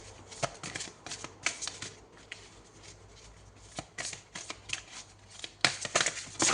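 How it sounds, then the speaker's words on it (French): Oracle cards riffle and slap in repeated quick bursts as the deck is shuffled and cards are drawn, close and fairly soft, with no talk. "Allez, on va prendre une carte pour commencer."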